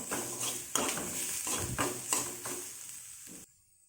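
Rice flour batter with cumin and cardamom being stirred in a pot: about half a dozen rhythmic scraping, sloshing strokes close up, which then stop abruptly, with no voices.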